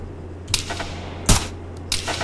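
Three sharp, suppressed shots from a Steyr AUG A1 HBAR SD rifle in Arma 3, each a short muffled crack spaced about half a second to a second apart over a faint steady hum.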